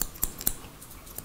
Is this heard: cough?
no